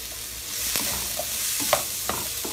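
Broccoli, sausage and peppers stir-fried in a pan, a soft steady sizzle broken by a few sharp utensil scrapes and taps against the pan, close by and without talking.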